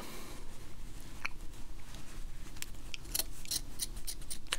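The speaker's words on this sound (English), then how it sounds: "I'm just going to cut the rest of the fingers off." Scissors snipping through the fingers of a cheap fabric drawing glove, a run of small close crisp cuts over a steady low background rumble, strongest near the end.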